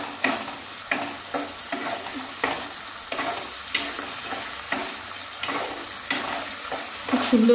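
Coconut paste frying with pointed gourd for a vegetarian malai curry, a steady close sizzle broken by repeated scraping stirs of a spoon in the pan, with no talk.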